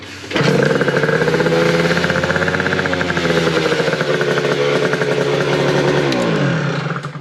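A Yamaha Aerox scooter with a carburetor, left sitting all weekend, starts cold and runs. A loud, steady buzzing engine note sits close by for about seven seconds, with a slight pitch dip near the end and no talk.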